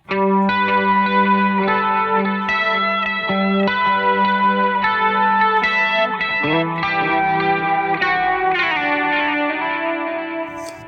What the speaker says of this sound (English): If we stack that and put a little chorus on that.